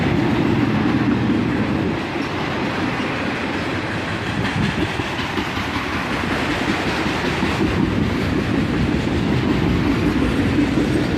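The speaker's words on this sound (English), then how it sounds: "accelerating this autorack train out of the siding" An ES44AC locomotive accelerates an autorack freight train out of a siding at dusk, a loud, steady rumble of engine and rolling cars with continuous wheel clatter throughout, close by and unbroken.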